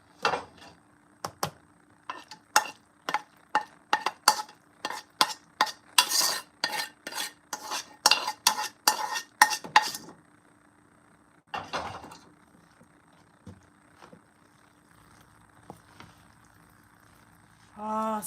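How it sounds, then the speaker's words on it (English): Celery and onions dropped into a pot and stirred for Thanksgiving stuffing, a rapid series of sharp clacks and scrapes of a spoon against the pot, then a pause with a few scattered knocks near the end. "I'm going to put the rest of these celery and onions in."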